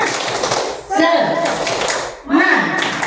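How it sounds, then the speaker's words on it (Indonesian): A classroom of children does the rhythmic tepuk semangat clap together in two loud bursts with chanting voices. A brief pause separates the bursts. "Ayo anak-anak semuanya kita tepuk semangat"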